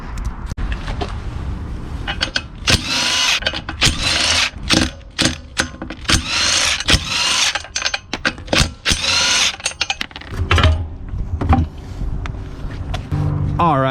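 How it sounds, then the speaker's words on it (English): Work on a wheel of a BMW E93 M3 with suspension damage: a power tool rattles in loud repeated bursts, with clanks and mechanical knocks between, close by, ending in quieter handling sounds. "Let's go ahead and pull that wheel off"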